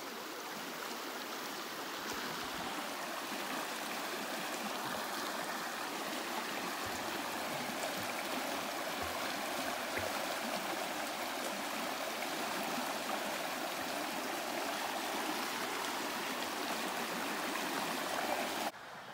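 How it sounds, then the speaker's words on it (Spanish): A swimmable river at Aldea Nubila in Santa Cruz Barillas flows with a steady, continuous rushing and gurgling of water, moderately near and unbroken for about nineteen seconds, with no voices. "el único río donde se puede nadar"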